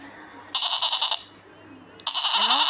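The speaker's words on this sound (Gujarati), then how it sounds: "એની પછી છે GOAT, ગોટ એટલે બકરી।" A goat bleating twice, each a loud, wavering cry close to the listener, separated by a short quieter gap.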